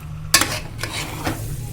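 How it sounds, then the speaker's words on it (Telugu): Mutton, liver and vegetable curry stirred in a pot, with a ladle scraping through the thick mixture in a few distinct strokes over a steady low sizzle. "మంచిగా కలుపుకోవాలి ఇట్లా."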